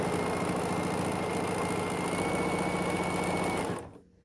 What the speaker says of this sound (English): I'm just going to sew a little bit more